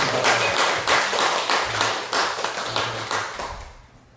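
Congregation applause during a church sermon: dense, steady crowd clapping fills the room for about four seconds, then thins and fades toward the end, with no speech over it.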